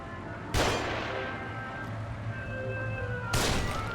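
Gunfire in The Evil Within horror game: two sharp, loud gunshots spaced a few seconds apart over a low humming ambient drone, no talk.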